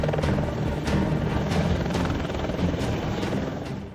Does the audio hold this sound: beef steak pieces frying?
no